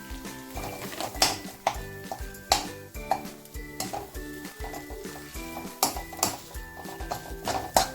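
Onion-and-coconut ghati masala, Mahabaleshwar style, fries in a pan with a soft sizzle while a spoon stirs and scrapes in uneven clinks, partly masked by steady background music.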